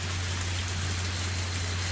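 Steady heavy downpour in the Higurashi: Tatarigoroshi video game, a continuous dense hiss of rain with a low hum beneath, loud and unbroken throughout.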